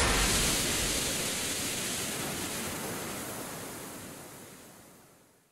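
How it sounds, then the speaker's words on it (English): A thrown smoke grenade in the video game Counter-Strike hisses out a broad, steady rush of noise that slowly fades away over several seconds. "Throwing smoke."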